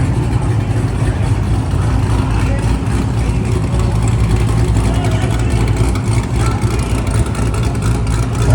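A car with a choppy cam idles and revs at a Tokyo car meet, its loud, uneven lumpy engine note continuous and close, with voices talking faintly in the background.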